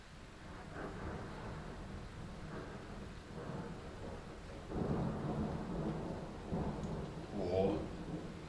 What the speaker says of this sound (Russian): Дождь продолжает, 7 утра уже